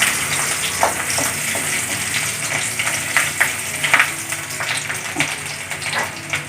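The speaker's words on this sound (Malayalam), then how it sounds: "ഇനി നമുക്ക് അതിലേക്ക് ഇഞ്ചി വെളുത്തുള്ളി ഇട്ട് കൊടുക്കാം" Ginger and garlic fry in hot coconut oil, a steady close sizzle dotted with sharp crackles and pops, with no voices over it.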